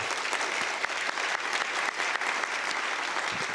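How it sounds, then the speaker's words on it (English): Dense, steady applause from an audience at an energy conference, filling the whole stretch at an even level with no talking over it. "So one more time, a round of applause for the folks willing to represent you."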